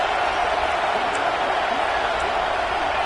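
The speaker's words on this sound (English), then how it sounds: "Decibels rising as the crowd gets behind this defense on 3rd down" Football stadium crowd roaring louder behind the defense on third down, a dense, sustained wall of distant cheering and noise with no breaks.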